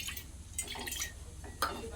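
Water is poured into a pan on a gas stove to make morning tea, a soft, close trickle and splash with light clinks of metal cookware and a faint background hum.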